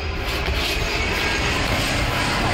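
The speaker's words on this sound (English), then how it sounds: "Oh, here, plane." A low-flying airplane roars close overhead, a loud, broad engine rumble and rushing drone that holds steady across the short span with no speech.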